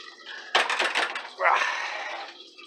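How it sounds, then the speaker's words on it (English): Bacon sizzling and popping in a frying pan while a bacon, egg and cheese sandwich is cooked, a loud crackling burst followed by a softer, steadier sizzle, close by with no talk. "I'm going to wait for this bacon to stop popping here"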